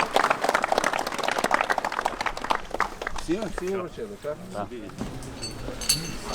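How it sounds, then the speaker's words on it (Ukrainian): A crowd at a district football championship awards ceremony applauds the team Dragora Krymova with dense, steady clapping for about three seconds before it fades and an announcer speaks over the last of it. "Вітаємо оплесками команду Драгора Кримова."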